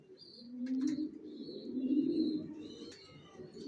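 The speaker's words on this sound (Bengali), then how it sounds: "এখানে এক জোড়া অ্যাডাল কবুতর দেখাচ্ছি" Racing pigeons cooing nearby, soft low throaty coos rising and falling across the clip, with faint higher chirps from other birds in the background and no voices.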